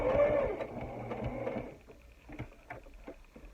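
A sewing machine runs a 2 millimeter stitch around a fabric face mask, a quick mechanical whirring and ticking that is loudest at first, then slows and stops into soft handling clicks.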